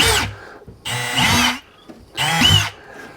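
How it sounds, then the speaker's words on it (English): A power drill bores holes into the corners of a panel near a personal watercraft, sounding in two long loud whirring bursts with short pauses between, close up and without talk. "So I'm going to drill the other corners."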